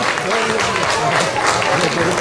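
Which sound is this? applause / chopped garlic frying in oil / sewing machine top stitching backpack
applause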